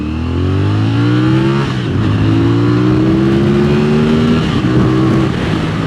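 A 2023 CFMOTO 450SR motorcycle accelerates hard onto a main road, its engine note climbing loudly through rising revs, dropping briefly at gear changes and climbing again, heard close from the rider's position with steady wind noise.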